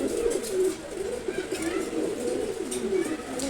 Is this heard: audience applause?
no